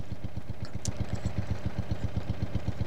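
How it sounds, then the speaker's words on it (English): A 1970s lawn tractor engine from a video game mod runs steadily alone, its even low chugging pulses repeating quickly throughout, with a brief faint higher click partway through. "This is the standard lawn tractor"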